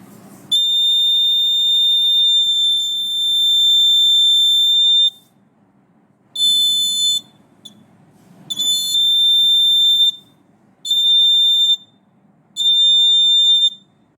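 An electronic alarm buzzes loudly in a steady high tone, then sounds in several shorter bursts with brief pauses between them.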